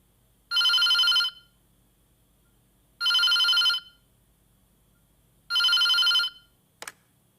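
A telephone bell rings indoors in three evenly spaced bursts, each about a second long and followed by a pause. A short click comes after the last ring, with no talk over it.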